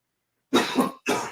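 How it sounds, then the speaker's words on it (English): Two quick, harsh coughs from one person nearby, the first one double-pulsed, breaking a moment of silence. "My friend is coughing."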